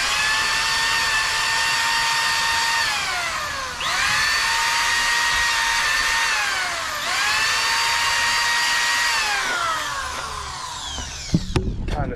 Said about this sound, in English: My electric, well, corded drill, way overkill, but my battery power one is in the house.